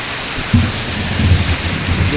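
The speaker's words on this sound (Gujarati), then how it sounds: "જો અંદાજ કેવો વરસાદ પડે છે એ બી જોવો તમે." Heavy rain pours down during a downpour in Gujarat, a dense, constant hiss filling the air, with a low voice briefly audible underneath.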